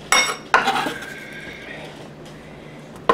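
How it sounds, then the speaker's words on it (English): A metal spoon scrapes and clinks against raw peppers being hollowed of their seeds, with two sharp knocks early on, a thinner ringing scrape after, then quiet and a final tap. "So I'm just going to take a spoon here and just scoop those out."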